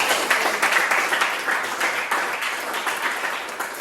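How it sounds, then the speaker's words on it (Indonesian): A classroom of students applauding together, steady dense clapping that stays loud and even for a few seconds, with no talk over it. "Beri tepuk tangan dulu buat"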